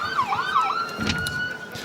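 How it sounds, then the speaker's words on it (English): A wailing siren at a Memorial Day parade rises and falls, then holds a steady high tone, fairly loud with traffic noise underneath. "So you can hear the sirens now through our mics"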